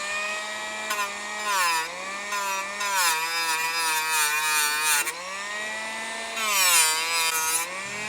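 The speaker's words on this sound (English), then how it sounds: "I got just a flap wheel on my Dremel here, nothing crazy." A Dremel fitted with a flap wheel grinds paint off a steel target, a loud, close whine that rises and dips in pitch as the load changes, with brief gaps between passes.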